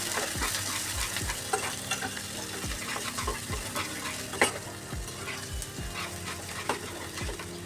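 Onions fry for a Bengali mutton curry, a soft sizzle under repeated scraping stirs of a spatula in the pan, fairly quiet and close, with no talking.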